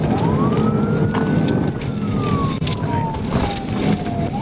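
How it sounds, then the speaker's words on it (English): Police car siren wailing in a long rising and falling sweep during a high-speed chase behind a fleeing Mustang, loud and steady over heavy road and engine rumble. "Sirens echoed through the streets as the chase pressed on"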